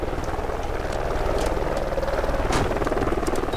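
Allied support helicopter in a Call of Duty: Ghosts multiplayer match, a steady low rotor and engine drone that holds throughout with faint game effects layered over it.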